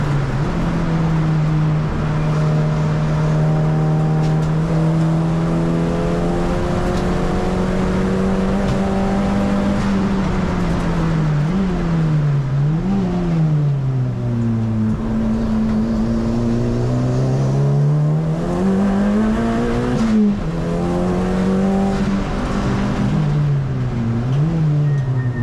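A race car engine at Mallory Park, the Ovenden car, revs loudly and continuously as it laps and powers out of the hairpin, the pitch rising and dropping through repeated gear changes with no one talking.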